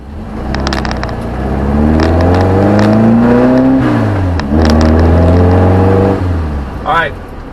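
An air-cooled VW Beetle engine catches on a bump start and revs up and down loudly, the pitch climbing and falling in long sweeps before dropping off, with someone talking over it.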